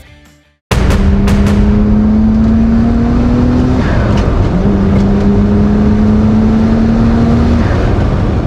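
A Nissan Skyline R32 GT-R engine revs loud and close after a short quiet start, pitch climbing steadily twice in long sustained pulls, with no talk over it.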